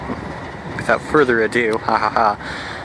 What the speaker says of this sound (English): this stupid train decided it was going to park here